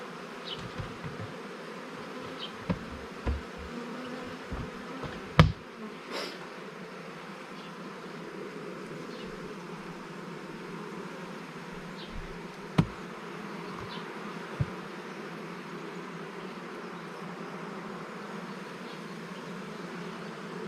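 Honeybees hum steadily around an open hive as frames are lifted and checked while preparing the nest for winter, a close, continuous drone with occasional knocks and clicks of handling.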